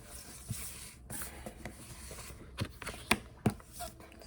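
Tarot cards being shuffled by hand, soft rubbing and sliding of card stock with a few sharper snaps and taps near the end, close and quiet.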